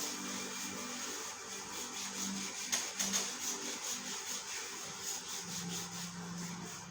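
Hands rubbing the legs while seated in a chair during a chair yoga session, a steady soft scraping friction that continues throughout, moderately close with no talking.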